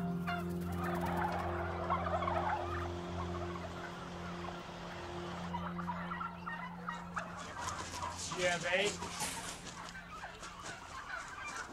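Turkeys on a farm gobble loudly in repeated bursts over a steady low hum, with one short line of speech and a faint background din of more birds.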